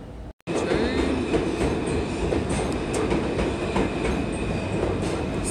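A Brooklyn-bound local subway train rolls along loud and close with a continuous rumble, rhythmic rail clatter and faint wheel squeal, starting after a sharp cut.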